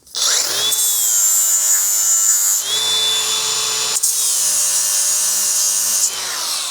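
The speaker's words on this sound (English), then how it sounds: "Quick test to see what you're working on when you're welding is to do a grind test." A grinder doing a spark test on a piece of steel, a loud, close, high-pitched whine in three continuous bursts with brief pitch dips between them.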